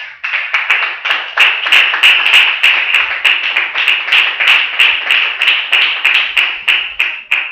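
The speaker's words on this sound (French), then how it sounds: "Acclamons pour Jésus" A church congregation claps steadily for Jesus, a fast, even rhythm of many hands at once, loud and sustained with no pauses.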